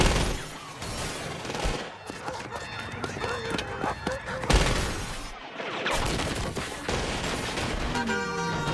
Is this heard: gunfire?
yes